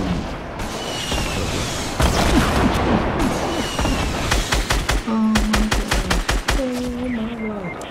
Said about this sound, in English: so yeah, we're getting shot at